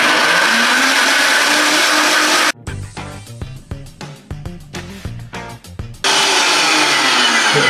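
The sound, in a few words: Vitamix and Dynapro vacuum blenders blending on high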